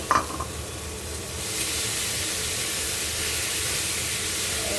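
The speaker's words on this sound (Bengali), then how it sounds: "এবার ভাজা ভাজা করে নেড়ে নেব" A utensil clinks, then a loud, steady hissing sizzle rises as potatoes and flattened rice fry in a pan, close and continuous.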